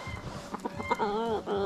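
Bantam chickens cluck close by on a farm, a few short clucks followed by drawn-out warbling calls, with soft rustling in the background.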